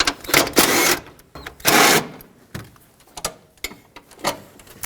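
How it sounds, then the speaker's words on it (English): Ratcheting clicks and short metallic bursts as 13mm bolts are loosened on the alternator of a 2012-2020 Nissan Pathfinder, a series of close, separate spurts with pauses between them. "Let's unbolt these two 13mm bolts."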